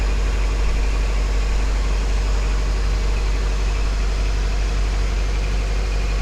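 A Cummins marine generator runs steadily aboard a 2012 Integrity 55 flybridge cruiser, a loud, constant low engine drone with mechanical hum filling the engine room throughout, no voices.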